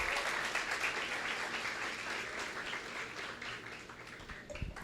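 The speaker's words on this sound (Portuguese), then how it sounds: "pode aplaudir o Senhor" A church conference congregation applauds together, a dense wash of clapping with cheering that starts loud and gradually eases, ending with a few sharper claps.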